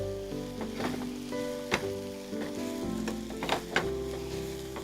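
Chopped onions sizzling in a pan with a little salt, a steady close frying hiss broken by a few sharp crackles and stirring clatters, with no talk over it.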